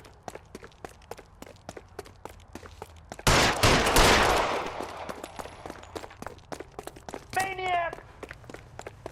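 Gunshots in the 1940s Los Angeles crime game L.A. Noire: a sharp, loud volley of shots bursts out and rings briefly, amid a steady run of footstep-like taps, with a short voice cry near the end.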